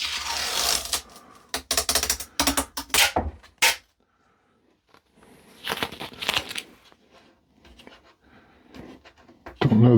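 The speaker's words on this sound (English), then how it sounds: "And let's peel this tape off." High-speed shipping tape peeled off the lid of an xTool F2 laser engraver during unboxing, heard as close bursts of ripping and crackling that stop partway, then softer rustling and handling noises.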